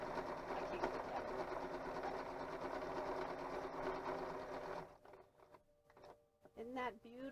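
A sewing machine stitches a seam on a custom sewing table, running in a steady, close mechanical whir for about five seconds before stopping, after which someone talks over quiet room sound.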